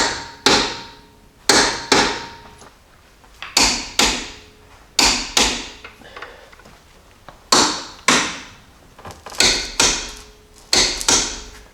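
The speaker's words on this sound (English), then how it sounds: "I'm going to go and tighten these up right now and torque them down to 85 foot-pounds." Jeep lower control arm bolts being tightened to torque with a wrench, sharp metallic clacks and ratcheting clicks in irregular bursts, each followed by a short ring-out, close and without talk.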